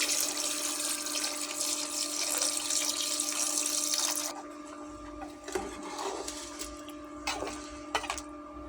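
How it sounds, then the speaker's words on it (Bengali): Water poured into a broiler chicken curry in the pot makes a steady splashing stream for about four seconds, then gives way to quieter stirring clinks and faint bumps, close by and without talk. "তরকারিতে পরিমাণ মতো জল দিয়ে দিলাম।"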